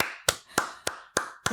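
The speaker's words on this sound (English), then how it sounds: "Claps for you" Five sharp hand claps, close and evenly spaced about a third of a second apart, with nothing else heard.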